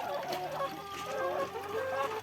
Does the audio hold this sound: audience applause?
no